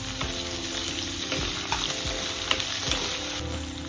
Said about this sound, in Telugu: ఇప్పుడు 1 అరకప్పు క్యారెట్ ముక్కలు, ఆలు ముక్కలు 1 అరకప్పు వేసి కొంచెం వేయించుకోవాలి.